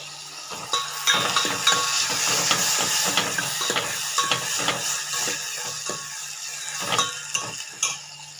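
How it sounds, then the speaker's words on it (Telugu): Tomato and onion pieces frying with a little salt in a pan, giving a steady close sizzle and hiss broken by clinks of a metal spoon or spatula stirring against the pan. "టమాటా ముక్కలు, ఉల్లిపాయ ముక్కలు అవి వేగుతాయి."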